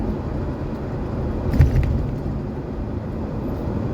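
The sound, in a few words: car overtaking a sugarcane truck going to sugar factory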